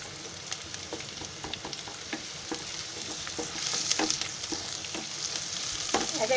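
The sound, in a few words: ginger garlic paste frying in pan for fried rice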